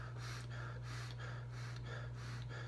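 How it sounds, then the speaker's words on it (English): Short, rapid cluster breathing before lifting, in through the nose and out through the mouth, about seven quick, even, forceful breath bursts in a steady rhythm, close and alone over a constant low hum. "you're going to breathe through your nose and out through your mouth in very short in and out breaths"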